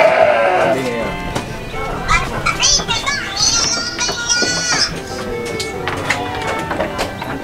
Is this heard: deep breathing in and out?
no